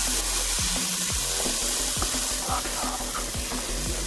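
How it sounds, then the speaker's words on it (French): Courgettes and tomatoes sizzling in a saucepan make a close, lively crackle, broken by repeated scraping knocks of a spoon stirring the vegetables, with no talk over it. "j'ajoute les courgettes. et les tomates bien sûr. Vous voyez là, ça chante dans la casserole"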